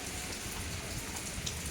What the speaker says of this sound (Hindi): चारों तरफ बारिश हो रही है